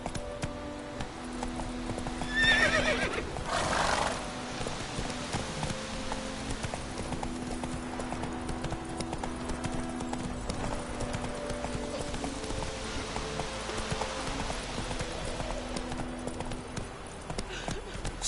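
Roach, the horse in The Witcher 3, gallops with steady rhythmic hoofbeats and whinnies once loudly early on, all under continuous game music and ambience.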